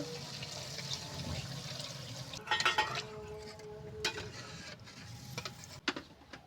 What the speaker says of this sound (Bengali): এবার আমি জল দিয়ে দেবো পরিমাণ মতো